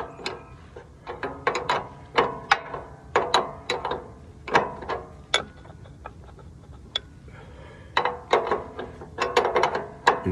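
A ratchet strap being tightened, giving close, loud bursts of sharp clicking as the pawl catches, in quick runs separated by short pauses.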